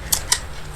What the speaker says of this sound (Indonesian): Oke, saya turunkan dulu nih tripodnya nih.